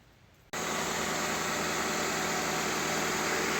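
A 1998-2002 Honda Accord, fitted with new alternator brushes and a new belt, fires up after a brief quiet moment and settles into a steady, close, even idle with no squeal.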